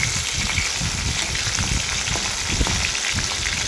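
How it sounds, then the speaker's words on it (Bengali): Fish sizzle steadily in hot oil for a Bengali tel koi dish, a dense continuous crackle and spatter close by with no voices. "মাছগুলোকে আমি ভেজে নিই"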